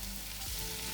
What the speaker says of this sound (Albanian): Dhe do ta skuqem për disa minuta derisa mishi i gryr të marrë ngjyrën kafke me thënë.